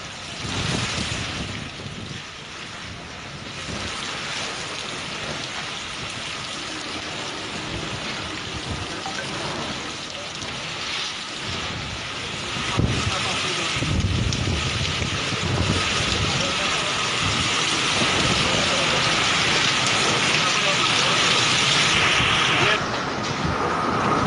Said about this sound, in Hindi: तो महाराष्ट्र के किनारे पहुंचा निसर्ग तूफान।